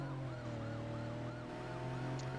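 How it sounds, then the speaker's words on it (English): Police car siren wailing in the Need For Speed Porsche Unleashed racing game, a steady repeating up-down wail over a constant engine drone, loud and continuous throughout. "We have to deal with this police car."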